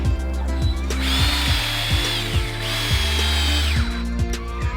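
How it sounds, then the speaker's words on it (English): A power drill with a bit used as a garden dibbler whirs in steady, loud bursts, its pitch rising and falling as it spins up and slows repeatedly. "Mike tested out his drill bit that he picked out to see how it worked as a dibbler"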